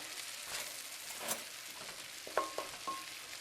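Red cabbage with bacon and black pepper being stirred in a pan: a quiet continuous sizzle with a few brief scrapes and clinks of the utensil, close and alone without speech.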